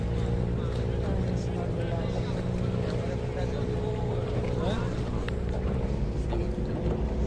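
A gondola moves across the water in Venice over a low, steady motor-like hum and wash, with people talking throughout.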